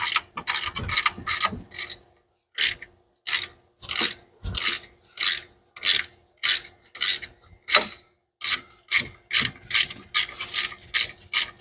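Wrenches and tools clatter and ratchet in a steady string of sharp, close clicks and clunks during a Mustang engine teardown, with short pauses between bursts and no talking.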